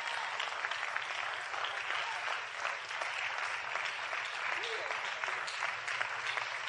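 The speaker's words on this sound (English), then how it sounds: "Everybody give Darnett a round of applause" A sustained round of applause from an audience at a spoken gathering, dense, even clapping that stays loud and steady for the whole stretch with no voices over it.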